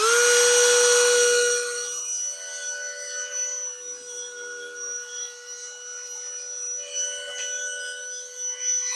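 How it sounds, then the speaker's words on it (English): A Dremel rotary tool runs on BergHOFF cookware with a steady high-pitched whine. It is loudest at the start, then continues slightly softer with small wavering changes in load. "Dremel time."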